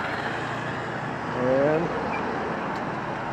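Road traffic passes along a street in Kata Beach, Phuket, making a steady background rumble with one louder vehicle swelling past midway. A brief voice is heard.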